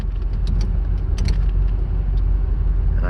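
A 1981 Chevrolet Corvette runs with its engine and dual exhaust pipes, a loud, deep, steady rumble with rhythmic low pulses, heard close up.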